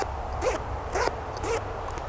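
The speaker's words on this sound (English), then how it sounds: "this is a very smooth pulled zipper" Zipper on a camping first aid kit bag pulled in three smooth, quick strokes about half a second apart, close and clear over a low steady background hum.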